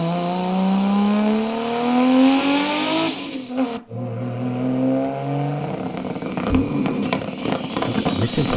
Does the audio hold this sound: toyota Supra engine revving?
yes